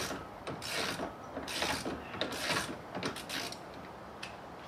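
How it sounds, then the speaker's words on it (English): A ratcheting spanner undoes a nylock nut during Mazda MX-5 Miata dash removal, giving steady close clicking pawl bursts in repeated strokes with brief pauses between them and no talk. "The nut is a nylock nut, which means you'll never be able to undo it with your fingers. So nice ratcheting spanner will make the job a lot easier."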